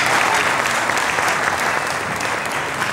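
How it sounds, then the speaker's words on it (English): Studio audience at a televised quiz competition gives a sustained, dense round of applause, loud and even throughout with no talk over it. "please give them a resounding round of applause"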